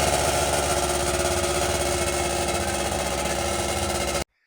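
A 1996 Ski-Doo Formula 3 600 triple snowmobile engine idles steadily and loudly up close, a dense continuous two-stroke drone with a fast uneven burble, running alone for about four seconds before cutting off abruptly.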